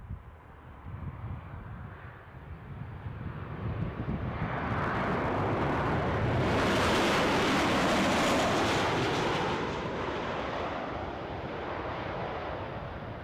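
Ryanair airliner on the runway at Newcastle airport: a broad jet roar builds over several seconds, peaks loud and steady mid-clip, then eases slightly while staying strong, with wind noise throughout.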